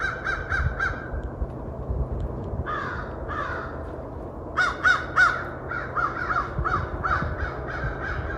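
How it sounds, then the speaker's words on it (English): Crows caw in short repeated bursts of three or four calls on a wooded park trail in Brentwood, Tennessee, some near and loud, others farther off, over a soft outdoor background. "Can you hear the crows?"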